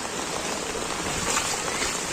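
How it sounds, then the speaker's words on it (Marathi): Heavy rain falls steadily outdoors during flood conditions in Chiplun, Konkan, as a dense, even hiss that holds at the same level for about two seconds without speech. "ते पाऊस परत जास्त चालू झालेला आहे"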